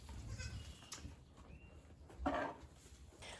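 A goat bleats once at a modest distance on a small farm, a short wavering cry rising above a low background of rustling and faint movement, with no talking.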